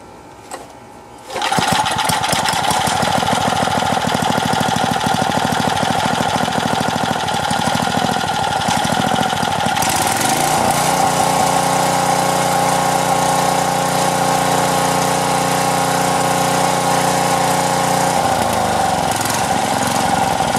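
A Craftsman Eager 1 edger's small engine starts up and then runs steadily and loud after a carburetor repair, with its droning pitch shifting partway through as the throttle changes, with no talk over it.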